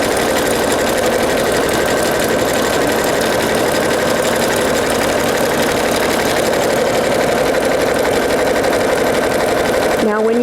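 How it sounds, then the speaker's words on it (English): A sewing machine stitches fabric around a curve in a steady, loud mechanical whir that runs continuously and stops abruptly at the end. "And slowly turn your fabric."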